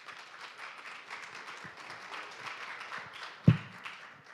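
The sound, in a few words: audience applause welcoming a speaker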